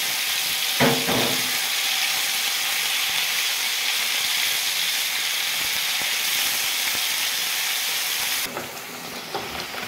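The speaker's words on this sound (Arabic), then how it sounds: "ودي اللحمه شوحناها شويه في الزيت" Minced meat sizzling and frying in hot oil in a pan where potatoes were just fried, a steady loud crackling hiss throughout with a few brief stirring knocks near the start.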